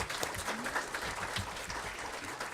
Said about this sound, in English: you should clap, yeah